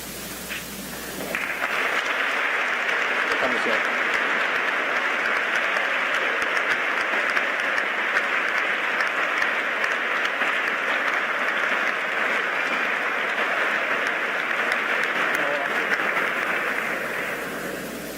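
A large audience at The Citadel applauds Secretary Pompeo, a dense, loud, unbroken wash of clapping that holds steady for about fifteen seconds before tapering slightly at the end.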